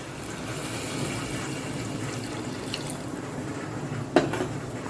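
Water is poured into a pot of soaked rice for jeera rice, a steady close splashing and trickling flow that continues evenly, ending with a few sharper clinks and splashes.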